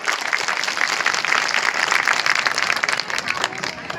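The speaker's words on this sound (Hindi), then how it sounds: "तो एक जोरदार ताली होनी चाहिए आपकी तरफ से।" An audience claps together in a dense, sustained burst of applause at a political speech, steady and fairly loud throughout without any voices on top.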